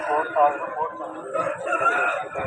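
At a fighting-cock market in Vijayawada, a rooster lets out a crow amid the clamour of other birds, while someone talks over the scene nearby.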